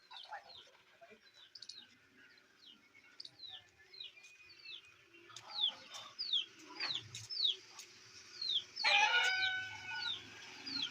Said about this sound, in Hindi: मुर्गियाँ यहाँ पर बैठी छांव पर रेस्ट कर रही हैं।